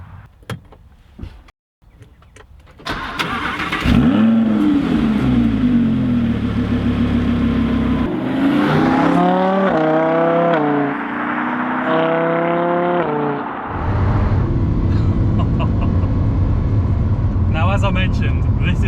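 A Lamborghini car's engine starts and revs loudly up and down, close and dominant inside the cabin, with door and mechanical clunks before it and a steady roar afterward while people talk.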